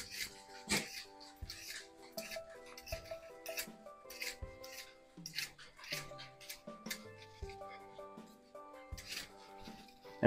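Fresh horseradish root is peeled down to the clean white flesh, giving soft, scattered scraping and rasping strokes at low level, quiet and irregular, with a few faint knocks and some background voice.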